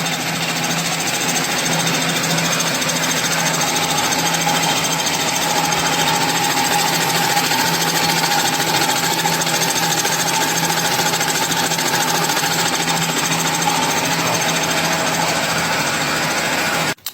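A milling machine cuts the flat face of a branch shredder's metal plate with a loud, continuous grinding whine that holds steady throughout, close up and without pauses.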